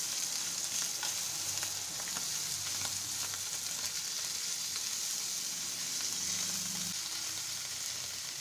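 Paneer and vegetables sizzle steadily in a hot pan for a korma, a continuous close frying hiss with faint stirring scrapes throughout and no talk.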